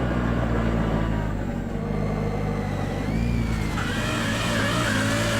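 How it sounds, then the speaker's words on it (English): Rally car engine on a closed Tour de Corse stage, a crumpled Peugeot 307 WRC nearby, idling then revving with loud, steady mid-range drone and rising pitch sweeps. "Robert gets the car's engine going"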